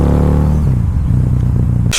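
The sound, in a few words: Harley-Davidson motorcycle engine on a test ride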